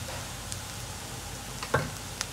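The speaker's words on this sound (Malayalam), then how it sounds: "ഇതെല്ലാം കൂടെ നന്നായിട്ട് ഒന്ന് സോട്ട് ചെയ്യാം." Turmeric, coriander and chili powder with green chilies sauté in a pan on low flame for an egg masala. The hiss is soft and even, with a couple of light stirring clicks.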